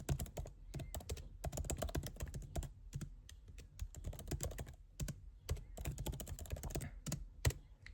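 Steady keyboard typing during an ASMR library roleplay, a dense run of crisp close key clicks with brief pauses, quiet and intimate throughout with no talking.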